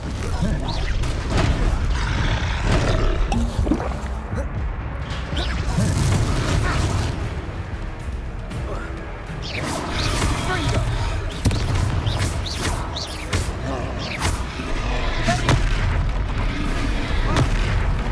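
Confringo fire spell blasts in Hogwarts Legacy, a dense run of booming explosions and crashes through a loud battle, with a character's voice calling out over the din.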